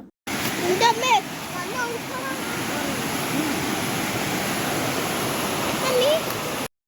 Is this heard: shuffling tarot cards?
no